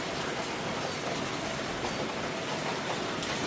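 Light rain falls around midday, a soft, continuous patter and hiss that stays steady throughout, with no one talking.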